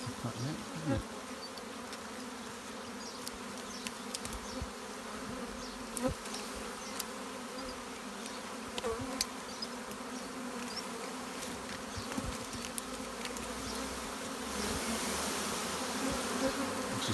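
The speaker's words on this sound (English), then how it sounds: "Can you hear the intensity of the buzzing?" Honeybees buzzing intensely after being shaken down into a straw skep, a dense, steady drone of many insects close by. Scattered clicks and handling knocks sound over the hum, with no speech.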